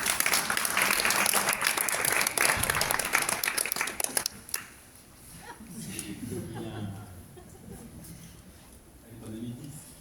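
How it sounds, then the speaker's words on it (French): Applause from the audience at the closing of a housing commons lab launch event rolls on for about four seconds, then fades into murmurs and voices talking. "Applaudissements."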